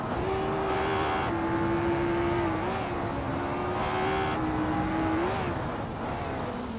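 A 1965 Cooper T77 race car engine in a racing video game, a continuous loud droning whine rising and falling as it shifts through gears, with no talk over it.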